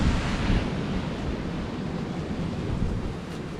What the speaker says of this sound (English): the wind's kind of blowing into me now